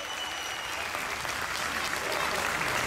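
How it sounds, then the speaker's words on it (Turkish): A festival crowd gives steady, dense applause at an outdoor Şile Bezi Festival concert, the clapping swelling slightly toward the end of a short burst. "Lütfen daha kuvvetli içten alkışlarınız gelsin bu muhteşem kareye."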